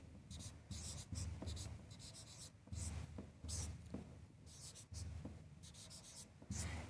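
Chalk or pen scratching on a board as a teacher writes out a coordinate geometry solution, bursts of rapid scratchy strokes with short pauses between, close and steady, with no talking.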